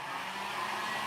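A hair dryer blows steadily and close up, drying chalk paint on a WoodUbend decoupage craft piece, a continuous airy whoosh with no pauses and no talking.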